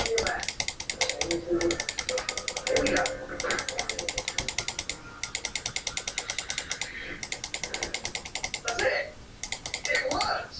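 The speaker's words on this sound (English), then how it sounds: "A lot of clicking." Rapid bursts of mouse and keyboard clicking while playing Minecraft, repeated clusters of sharp clicks with brief pauses between them, near and steady under someone talking.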